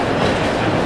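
Train at New York's Grand Central station, a loud, dense rumble of wheels and rail noise filling the brief moment close by, steady throughout with no voices.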